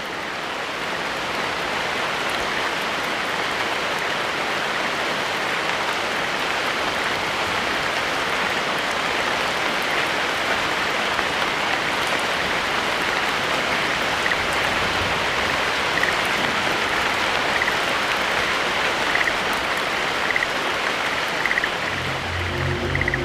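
Steady rain falls on open Arctic ground, a dense, even hiss of drops lasting throughout with no pauses and no voices.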